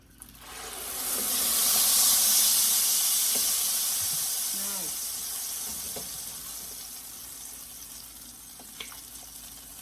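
Ground mole spices hit hot oil in a clay pot, bursting into a loud sizzling hiss that swells over the first two seconds and then slowly fades while frying continues, with faint stirring clinks and a little talk.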